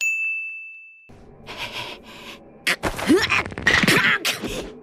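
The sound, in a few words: walnut cracking sound effect for popping a dislocated shoulder back in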